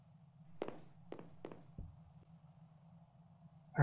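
Footsteps sound in a spooky exploration video game, a few sparse, hollow thuds on a hard floor spaced irregularly over a low steady ambient hum, with no talking.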